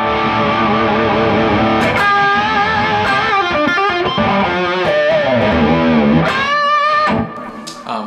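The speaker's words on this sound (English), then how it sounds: "with my amp, I had the distortion on way up" A single-coil electric guitar through an amp with high-gain distortion plays a sustained, searing melodic line of Auld Lang Syne with bends and echoing delay, loud and alone before trailing off.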